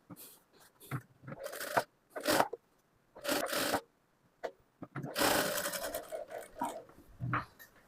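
A sewing machine joins the body part of a frock in short, stop-start runs of rapid stitching chatter, with brief bursts separated by quiet gaps and cloth-handling rustles, the longest run near the end.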